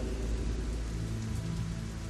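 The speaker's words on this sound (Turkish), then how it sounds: "Nereden bildin yağmur yağacağını?" Steady rain falls, a dense, loud wash of hiss with a low rumble like distant thunder beneath, continuous and without voices.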